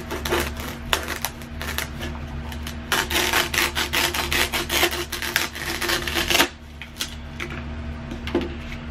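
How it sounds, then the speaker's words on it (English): A piece of styrofoam being cut by hand, a rapid scratchy rasping stroke after stroke for several seconds before pausing, close and fairly loud with no talking. "And then just cut you off a piece."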